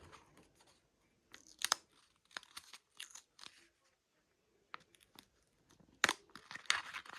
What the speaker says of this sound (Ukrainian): Ну, давайте вже нарешті відкривати наш пакетик.